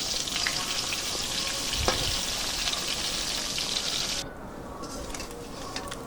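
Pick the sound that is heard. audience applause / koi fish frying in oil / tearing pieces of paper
koi fish frying in oil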